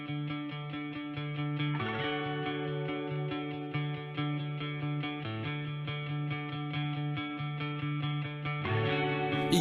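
A steady, loud passage of a single by an indie rock band from Swansea, fuzzy distorted guitars holding chords, shifting every couple of seconds, played without any talking over it.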